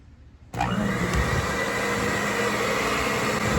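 An electric mixer with beaters whisks batter in a home kitchen, switching on abruptly and running as a steady, loud motor whir with no voices.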